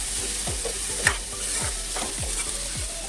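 Onions sauté in a pan for pav bhaji, a close, continuous sizzle broken by rhythmic scraping strokes of a spatula roughly every half second, with one sharper clink along the way.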